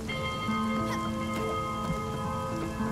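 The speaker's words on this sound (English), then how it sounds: "The rain should keep my plants watered." Rain falls steadily through a storm in the video game Spiritfarer, a dense constant patter layered under sustained tonal game music, with no talking.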